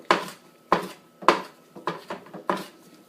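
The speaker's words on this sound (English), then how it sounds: "these leaves are a little bit bigger, so I'm going to go ahead and chop through these a couple of times" A knife chops through rosemary leaves on a board, six sharp, close knocks spaced about half a second apart with brief rustly decay between them.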